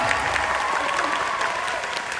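Audience applause for the Thai singer at a press event, a dense, steady wash of many clapping hands that stays loud and even throughout.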